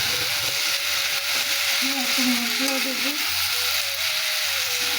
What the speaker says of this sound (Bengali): এইবারে মা সিদ্ধ করা পাস্তাগুলো দিয়ে দিল